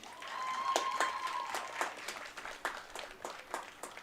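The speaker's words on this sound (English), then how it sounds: "Let's give a round of applause to Abby." Applause from an audience at a high school event before a North Tonawanda vs Kenmore East game, moderate clapping that thins into scattered claps, with a faint whistle tone early on.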